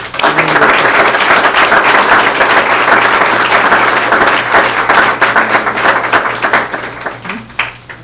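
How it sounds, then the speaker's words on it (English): Loud, sustained applause from a crowd at an internship graduation ceremony, dense clapping continuing steadily for several seconds before thinning slightly at the end. "if you could give them a round of applause"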